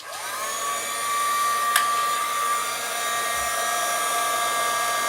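A craft embossing heat gun blowing steadily, a loud close whirring hiss with a high whine that rises as it spins up in the first second, then holds an even drone throughout.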